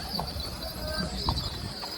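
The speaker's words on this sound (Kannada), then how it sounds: "ಇವಾಗ ಹತ್ಬಿಟ್ಟು ಹೋಗೋಣ ಕುದುರೆಯಲ್ಲಿ, ನೋಡೋಣ ಹೆಂಗಿರುತ್ತೆ ಅಂತ." A white horse carries riders near Mysore Palace, its hooves clopping in a few scattered beats at moderate distance amid crowd murmur and outdoor bustle.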